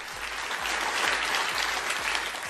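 An audience claps together at a Bill Maher comedy show, a dense, even burst of applause sustained for a few seconds at steady loudness, with no voices over it.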